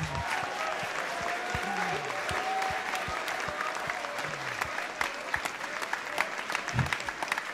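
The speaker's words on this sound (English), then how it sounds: "Please keep your applause going for the jazz bands, the concert band, and the symphonic band." An audience applauds school jazz, concert and symphonic bands at a high school holiday band concert, a dense, steady clapping that carries on for several seconds, with faint voices mixed in.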